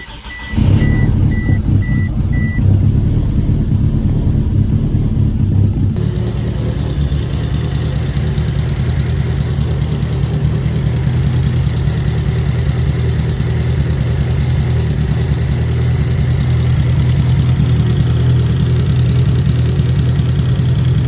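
A 1997 Mitsubishi Eclipse GSX engine with a freshly rebuilt head and new timing belt cranks, fires and settles into a steady, loud idle that drones on continuously, with a repeating beep early on.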